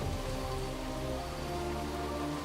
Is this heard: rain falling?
yes